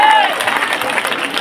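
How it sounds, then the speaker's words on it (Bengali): A college stage comedy audience gives a burst of applause, a dense, close patter of clapping that lasts the full short moment. "সবাই রাকিবের জন্য একটা জোরে হাততালি হবে না?"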